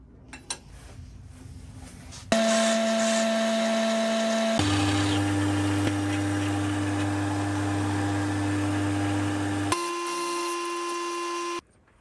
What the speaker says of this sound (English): I'm just going to drill into it about halfway just to get a big chamfer recess.